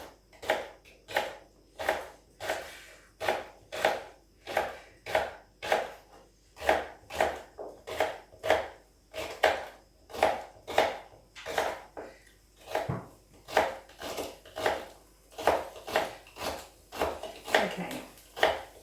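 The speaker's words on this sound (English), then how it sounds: "chopping away the celery" A kitchen knife finely chopping celery on a cutting board, steady rapid knocks repeating for nearly twenty seconds, close and fairly loud, with no speech.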